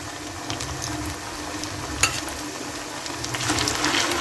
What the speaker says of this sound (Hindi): मिक्स करेंगे और 5 मिनट तक इसे फ्राई करेंगे